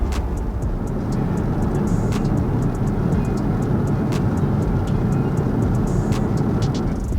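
A Jaguar car accelerating to 60 mph, heard from inside the cabin: a steady low road and engine rumble with tyre roar that stays constant and moderately loud, with faint ticking clicks above it and no talk.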